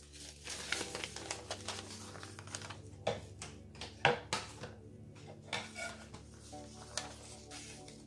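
Wallpaper and wrapping paper being handled for collaging envelopes, with close crinkling, rustling and light tapping clicks in an irregular rhythm and a few sharper snaps, no talking.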